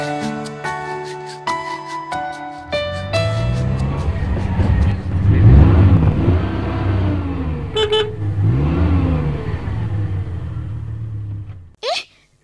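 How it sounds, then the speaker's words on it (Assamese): A car arrives outside, its engine rumbling steadily through the middle, with a couple of short horn toots and other sounds early on. Voices are heard near the start. "বাহিৰত গাড়ীৰ শব্দ, কোনোবা আহিল যেন পাওঁ"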